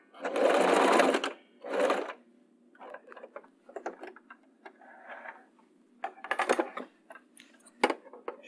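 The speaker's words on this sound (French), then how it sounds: "Je fais donc un point arrière." A home sewing machine backstitching the edge of fabric for reusable cloth wipes: loud close bursts of motor whir, then short stitches, taps and clicks, alone without talk.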